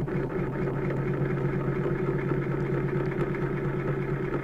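A metal lathe fitted with a ball bearing bump tool chatters against the workpiece, a steady buzzing, rattling hum with fine rapid vibration, continuous and close without talk.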